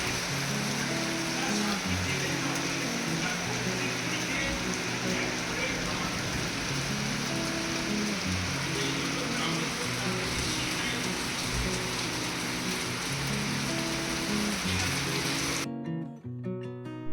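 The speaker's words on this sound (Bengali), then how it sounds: "দেখুন, ওনারা ডেলিভারি দিয়ে যাওয়ার পরটা দিয়েই বৃষ্টিটা শুরু হলো।" Rain falls steadily in a dense, even patter that runs on without a break, with a voice talking over it.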